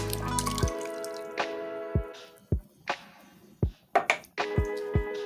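Thick tomato sauce from a 30-ounce can plops and drips into a pot of lasagna soup, making a series of separate wet glugs and splats at an uneven pace, close and distinct.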